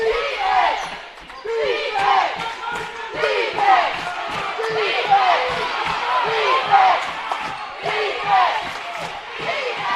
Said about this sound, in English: You can hear their fans cheering.